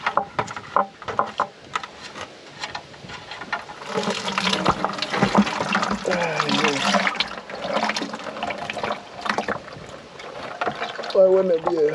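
Engine oil pouring and splashing from the drain of a Detroit Diesel 3-53 engine in a Michigan 55A loader, a steady liquid stream close by with clanks of handling and a few brief voices.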